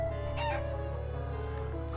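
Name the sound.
chicken clucking in video game Trails of Cold Steel 2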